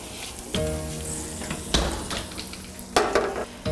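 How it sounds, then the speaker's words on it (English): A spoon stirs sauce with a bay leaf in a pot over heat, a steady close sizzle and bubbling broken by a few louder scraping strokes against the pot. "Stir this around."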